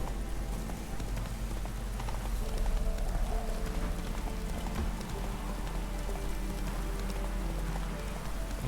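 A horse gallops in The Witcher 3, a steady rapid clatter of hooves over a dense wash of rain-like outdoor noise, with no voices heard.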